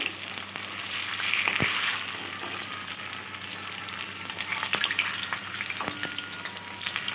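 Pumpkin fritters fry in oil with a constant crackling sizzle, punctuated by occasional knocks and scrapes as pieces are turned; no voices.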